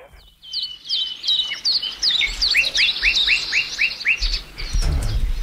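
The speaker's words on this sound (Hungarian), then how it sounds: "Madarakat." Birdsong played over a radio morning show fills the air with rapid, bright chirps and repeated descending whistled calls, steady and close, with no talking over it.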